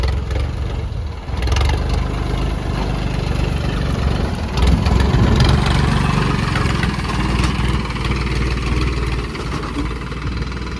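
A combine harvester's engine runs steadily while cutting rice in a paddy field, giving a loud, continuous low rumble with a brief dip near the start and no talk over it.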